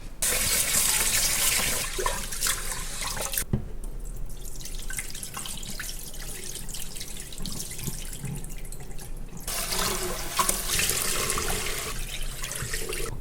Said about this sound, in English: So first thing, I wanna wash the rice.